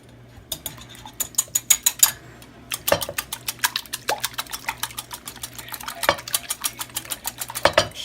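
Clinking and stirring as a coating for boneless chicken thighs is mixed in a bowl, with quick clustered taps and scrapes of utensil against dish, a brief pause, then more irregular clatter, close and moderately loud with no talking.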